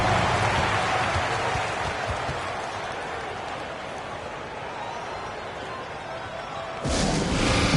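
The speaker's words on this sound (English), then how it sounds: "Let's give them a round of applause" Steady applause from a large crowd at a basketball game in Minneapolis fills the space, continuing without pause and swelling slightly louder near the end.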